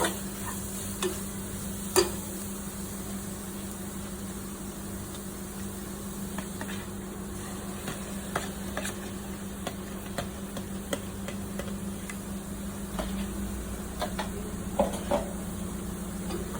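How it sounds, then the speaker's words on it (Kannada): Curd being stirred into biryani masala in a pot, with soft scraping strokes and a faint sizzle under a steady low hum, close and fairly quiet, with no voices. "ಮೊಸರು ಹಾಕೊಂಡು ಚೆನ್ನಾಗಿ ಮಿಕ್ಸ್ ಮಾಡೋಣ"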